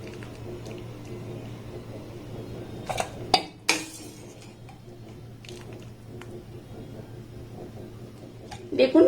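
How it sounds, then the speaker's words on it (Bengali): Boiled pumpkin pieces are lifted out of a pot of hot water, with a few sharp metallic clinks of a utensil against the pot over a low steady hum and quiet background noise. "এবার এখান থেকে এগুলোকে জল ঝরিয়ে আমি উঠিয়ে নেবো"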